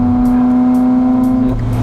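A Ferrari 458 Italia cruises with a steady, loud, droning engine note heard from inside the car, the pitch dropping near the end as it eases off, with no talking.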